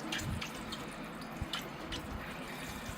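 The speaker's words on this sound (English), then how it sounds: "I'm going to wet the root system down again." Water trickles and drips softly over the exposed root system of an Arakawa Japanese maple bonsai being repotted, a faint, close, steady wash with scattered small splashes.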